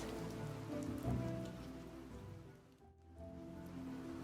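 Heavy rain falling in a steady, dense wash with no break, broad and fairly soft. The level swells and dips slightly and no voices are heard.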